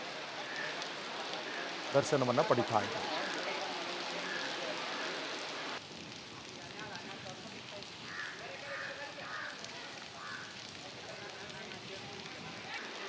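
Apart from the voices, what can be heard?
heavy rain falling near flooded Malaprabha river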